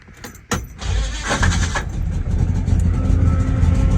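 Holden HQ car being moved in a workshop, a sharp mechanical clunk at the start followed by a steady close engine rumble lasting to the end.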